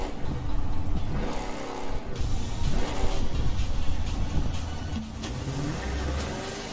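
A boat engine runs in The Crew 2 racing game, its motor droning and rising and falling in pitch as the throttle changes, with rough water-like texture in the low end and no talk.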